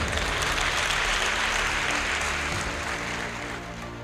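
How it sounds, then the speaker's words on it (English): An audience at an inaugural university lecture claps steadily for about four seconds, a dense, even wash of applause that eases slightly toward the end. "so give me clap again"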